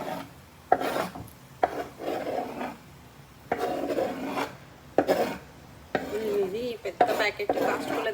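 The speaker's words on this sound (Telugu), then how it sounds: "ఒక ఫ్యూ మినిట్స్ ఫ్రై చేద్దాము కట్ చేసుకొచ్చిన మష్రూమ్స్ కూడా యాడ్ చేసేసుకుంటున్నాను" Chopped mushrooms and onions frying in a pan while being stirred, with soft scraping and rubbing strokes in uneven bursts, close and fairly quiet.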